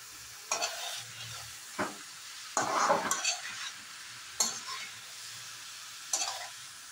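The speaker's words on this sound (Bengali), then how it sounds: "লেবুর রসটাকে ভালোভাবে মাছের মাথা কপিটার সাথে মিক্স করে নেব" Fish head and cauliflower with lemon juice being stirred in a pan, giving a few separate scraping strokes over a faint steady sizzle, with short pauses between the stirs.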